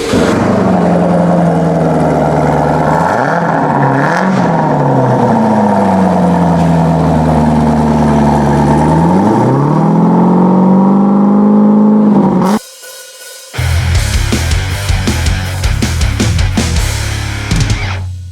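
A 2019 Corvette Z06 with a newly installed Corsa exhaust idles loudly nearby then revs repeatedly, pitch swelling and dropping, followed after a brief cut by rougher rumbling revs.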